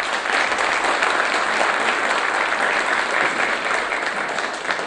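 An audience claps steadily and loudly throughout at an orchestra's anniversary celebration in Silivri, a dense, sustained round of applause with no talk over it.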